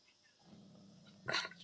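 A dog gives a single short, sharp bark near the end, after a low faint background hum.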